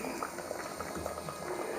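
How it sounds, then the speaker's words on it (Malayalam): Jackfruit seeds simmer in salted water in a pot, giving a soft, steady bubbling and crackle at close range with no voices. "അപ്പം നമുക്കിതൊന്ന് വേവിച്ചെടുക്കേ ഉപ്പിട്ട് വെള്ളം ഒഴിച്ച്"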